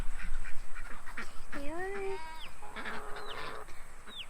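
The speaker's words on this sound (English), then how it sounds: "We call them the alarm system because they're always honking and stuff." Farm ducks and geese honk and quack in a loose, overlapping run of calls, a few long rising honks standing out close by, with scattered shorter cries and a person speaking in the background.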